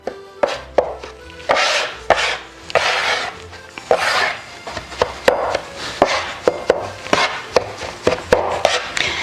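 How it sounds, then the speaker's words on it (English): A bench scraper works wet pasta dough on a countertop, making close, repeated scraping strokes punctuated by sharp taps in an uneven rhythm, with no talking. "I like to use the bench scraper just so that my hands don't get all full of dough"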